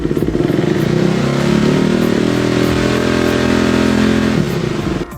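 KTM 390 motorcycle engine revving up while stopped, loud and close with a rough, pulsing single-cylinder note that rises and holds steady before dropping off at the end, no talking.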